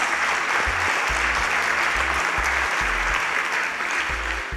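Audience gives a loud, sustained round of applause for panelists at an innovation competition show, dense continuous clapping throughout, with a rhythmic bass-heavy music beat pulsing beneath it.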